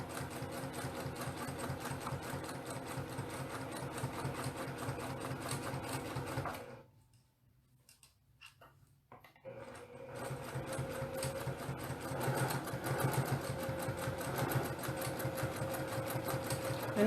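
A sewing machine doing free motion quilting runs in a rapid, steady mechanical chatter, close and even. It stops for a few seconds of near quiet with light handling noises, then starts stitching again.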